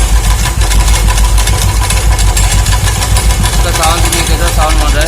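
A Royal Enfield Classic 350 Bullet engine with a loose clutch chain idles close by, giving a loud, steady low thumping throb with a faint rattly edge that continues unbroken throughout.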